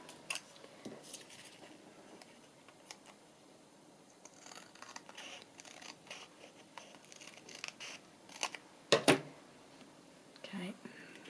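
Scissors trim the uneven bottom edge of a paper page for a spring journal, producing quiet, scattered snips and paper rustles close by, with a soft, low voice murmuring at times.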